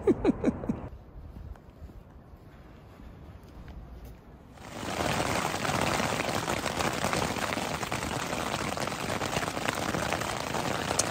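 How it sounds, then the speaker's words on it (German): Steady rain from a thunderstorm pours down on a surface, starting softer and then swelling to a dense, constant patter close by. "Da draußen ist ein ziemliches Gewitter, wie ihr hört."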